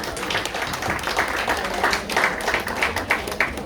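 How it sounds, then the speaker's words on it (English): Audience at an International Women's Day 2021 dinner applauds the caterer Manoj Singh of Scenic Dreams Catering and his team, a steady wash of clapping that holds at even loudness throughout. "A big round of applause to him"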